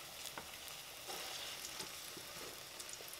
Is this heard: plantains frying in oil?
yes